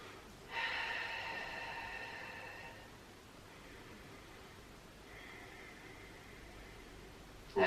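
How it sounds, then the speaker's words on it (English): Slow, deep breaths during a stretch in a pre- and postnatal workout, a long airy inhale followed by softer, breathy exhales, close and quiet with no talking. "Just take a few nice deep breaths."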